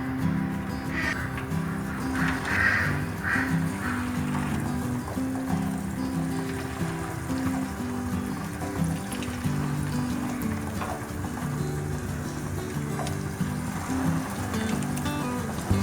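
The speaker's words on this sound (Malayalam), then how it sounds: "ഓരോ പീസ് ഈ എണ്ണയിലേക്ക് ഇട്ട് കൊടുക്കാം." Long, finger-cut chicken pieces for Kerala-style dragon chicken deep fry in hot oil, giving a soft, steady sizzle with light crackles that continues throughout.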